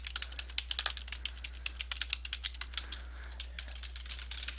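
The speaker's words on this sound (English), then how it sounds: "and keep typing, and you could type as much as you want there" Rapid typing on a computer keyboard while entering notes in betting software, close and steady, with dense irregular key clicks and no voices.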